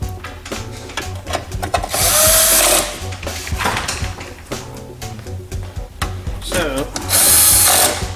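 Power drill driving screws while assembling a Mjolnir 2 build, with whirring bursts of the drill spinning up and stopping several times between moments of handling noise and a person speaking.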